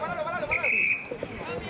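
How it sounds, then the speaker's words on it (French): A referee's whistle at a polo final, one short shrill blast under a commentator's ongoing talk and faint crowd murmur. "Et l'arbitre a sifflé."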